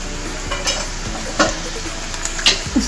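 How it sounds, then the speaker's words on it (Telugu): Chilli powder, coriander powder and turmeric fry in a pan as a spoon stirs them, a soft steady sizzle broken by a few scraping clinks of utensil against metal. "పసుపు వేసుకొని ఇవన్నీ కూడా వేయించుకోవాలి."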